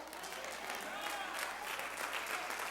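Sustained applause from a large church congregation, dense and continuous clapping that fills the space evenly throughout.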